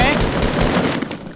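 Rapid automatic gunfire from a Fortnite match on Xbox, dense bursts of shots filling the whole moment, loud and close.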